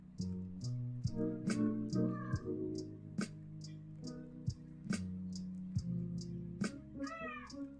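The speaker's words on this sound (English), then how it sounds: "Bloody cat." A cat meows repeatedly, close and fairly loud, in a series of short rising calls spread across the clip with brief gaps between them.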